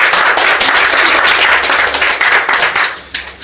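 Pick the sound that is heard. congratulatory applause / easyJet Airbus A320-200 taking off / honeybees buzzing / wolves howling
congratulatory applause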